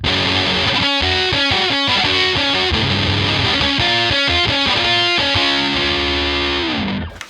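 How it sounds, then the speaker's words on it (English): Electric guitar through a Big Muff fuzz pedal gives a thick, saturated, wall-like tone, strumming continuously with a few rhythmic accented stops, then a held chord fading at the end. "I switch over to the Big Muff for a huge, big tone"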